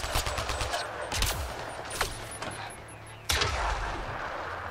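Gunfire in the video game Mass Effect Andromeda: loud, sharp blasts and bursts of shots ring out close, with a heavy shot around the middle and a strong blast near the end over a constant noisy combat backdrop.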